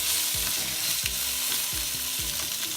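Salmon frying in a pan, a steady close sizzle with repeated soft stirring or scraping strokes across the cooking, no voices.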